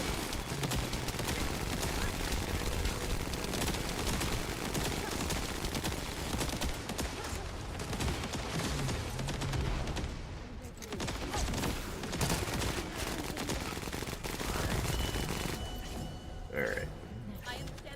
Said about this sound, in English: Blade can become a Gatling gun with this thing.